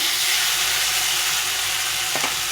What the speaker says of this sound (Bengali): আলু আর পটলটা ভালো করে কষিয়ে নিয়েছি দেখো পটলখানি কষা হয়ে গেছে